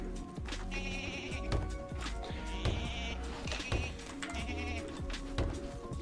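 Volt Goats in Don't Starve Together bleat repeatedly in short, nasal, wavering calls over a busy game soundtrack with steady music, several overlapping calls spread across the stretch.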